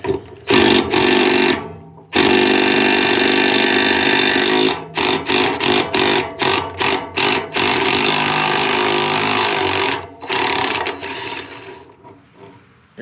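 A wrench ratcheting against junk-caked nuts and bolts on a New Holland 256 hay rake gearbox outdoors in the cold, loud rapid clicking bursts separated by short pauses.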